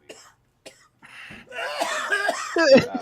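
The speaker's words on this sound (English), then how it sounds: "Here comes the fake coughs." A few short coughs, then a forced, drawn-out cough mixed with chuckling, close and fairly loud.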